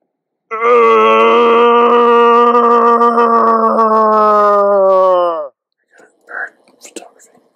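A hunter in New Zealand imitates a red stag's roar with his voice, producing one long, loud, groaning bellow lasting several seconds. Quiet whispering follows.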